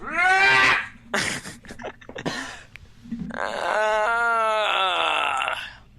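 A person gives a long, drawn-out yawn with a tonal, wavering, almost sung quality, broken by a few short vocal noises in between.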